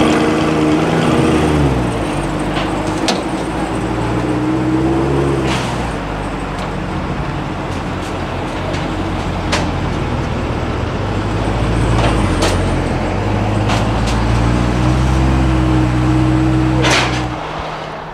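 A 2024 Corvette E-Ray hybrid car driving past at close range, engine rising and falling in steady drones, with sharp clicks and thumps scattered throughout.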